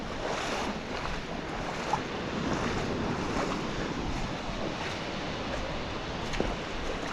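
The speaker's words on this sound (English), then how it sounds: "This is where the big waves come in." Sea waves surge and wash against the rocks at Whitsands Bay in a continuous rushing roar, with heavy wind buffeting the microphone throughout and a couple of faint knocks, and no one talking.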